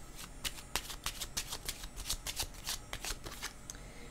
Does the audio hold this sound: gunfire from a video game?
no